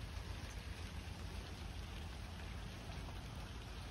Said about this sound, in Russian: слышать звуки дождя.